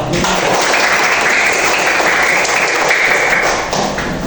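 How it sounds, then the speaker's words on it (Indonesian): A classroom of students claps together loudly and close, a dense steady burst of applause that fades a little near the end. "Oke, kita tepuk tangan dulu."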